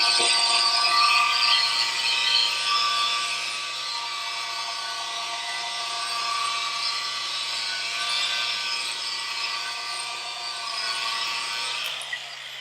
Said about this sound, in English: Just give it 1 little pass with the rotary